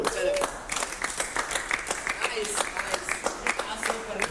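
Clapping breaks out around a group, a burst of claps over steady crowd noise with voices mixed in.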